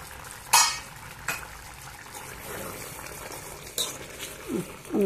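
Gravy simmers and fries in a pan with a soft, continuous bubbling sizzle, broken by a few sharp scrapes and clinks of a utensil against the pan, heard up close.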